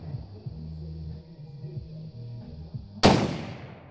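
A single sharp, loud gunshot cracks outdoors near the end, followed by a short fading echo, after a stretch of quiet low rumbling background.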